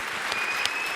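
Dense, steady audience applause for Hubertus Herrmann, organiser of a joke-telling regulars' table, at the Bavarian joke championship 2025, a brief even burst of crowd clapping.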